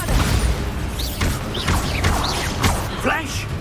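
A Bombarda explosion spell cast in Hogwarts Legacy, heard as a few loud booming impacts amid busy game effects, with brief whooshing magical tones layered over them.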